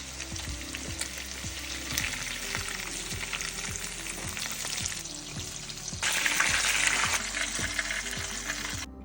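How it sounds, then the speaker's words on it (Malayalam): Chicken pieces fry in hot oil in a pan with a continuous crackling sizzle, while steady rhythmic scraping of stirring repeats underneath and the hiss swells louder toward the end. "2-3 മിനിറ്റും കൂടെ നമ്മളിത് ഫ്രൈ ആക്കി എടുത്തിട്ടുണ്ട്"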